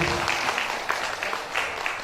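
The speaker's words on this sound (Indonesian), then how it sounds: "Boleh kita berikan tepuk tangan?" A crowd gives a short burst of applause at a 2018 Christmas gathering. The clapping is dense and continuous and fills the whole moment at a moderate level.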